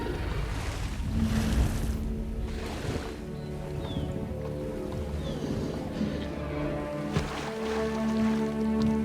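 Water pouring into a dinosaur enclosure in the PC game Jurassic World Evolution, a steady broadband wash like surf or wind that stays loud and continuous, with a soft game music bed underneath and no talking.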